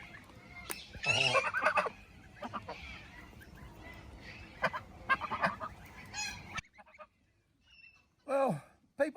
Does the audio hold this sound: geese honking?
yes